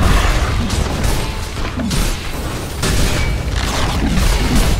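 A tower collapses in Dota 2 gameplay as heavy booms and crashing impacts, with rumbling debris and layered battle effects, loud and continuous with several strong hits over a few seconds.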